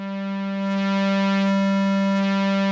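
A sustained Repro-5 synthesizer tone with rich, stacked harmonics drones steadily, swelling slightly in loudness, with a gently gritty edge from polyphonic distortion softened by blending with the dry signal.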